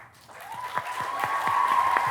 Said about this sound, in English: a big round of applause for the class of 21